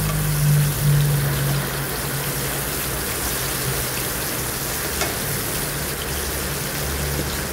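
Onions sizzle steadily in a hot pan left over from frying salmon, a continuous close crackle and hiss with a low hum underneath and no talking.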